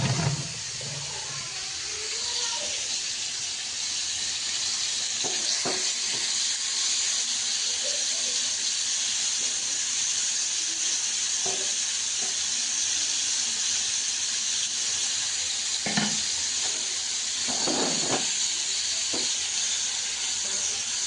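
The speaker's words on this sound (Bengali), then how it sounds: "এই যে লবণ মাখানো চিংড়ি মাছটা দিয়ে আমি ভেজে নিই সুন্দর করে" Salted shrimp fry in hot oil in a home kitchen with a steady, loud sizzle and hiss throughout, broken by occasional soft clinks and stirring sounds.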